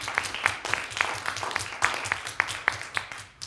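Applause at a school board meeting, a modest crowd clapping steadily with distinct individual claps, moderately near and fading toward the end.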